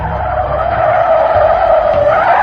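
A car skids to a stop with a loud, continuous tire screech lasting a couple of seconds, heard alone without any talk.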